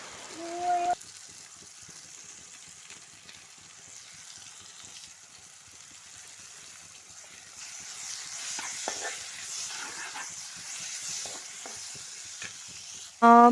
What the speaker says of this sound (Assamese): ইয়াত এতিয়া আধা চামুচ হালধি দিছোঁ, আধা চামুচ কাশ্মীৰী ৰেড চিলি পাউডাৰ দিছোঁ।